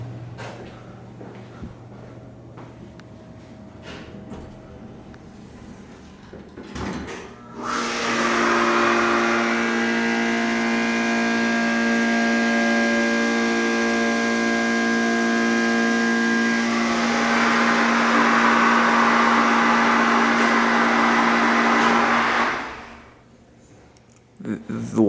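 A 1970s Southeastern hydraulic elevator at a hotel shuts its doors with a clunk, then its pump starts and hums loudly with a steady tonal whine for about fifteen seconds before winding down and stopping.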